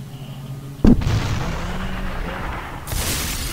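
A single sharp, loud shotgun blast in SUPERHOT booms out close at hand, followed by a lingering low rumble and a second bright burst of noise a couple of seconds later.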